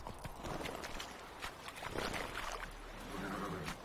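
Splashing and clopping hoof sounds as a horse wades through water in The Witcher 3, steady and fairly close, with game ambient noise underneath.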